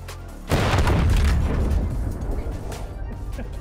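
Super weapon firing in the Foxhole war game, a sudden massive boom that erupts after a moment of quiet and rumbles on, slowly fading.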